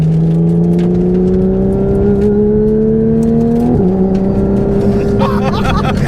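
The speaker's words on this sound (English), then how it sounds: "The turbo! That sound, isn't it?" A twin turbo Porsche GT3 RS engine pulls loud and steady from inside the car, its tone rising through the rev range, then dipping briefly at a gear change before climbing again, with turbo whine over the drone.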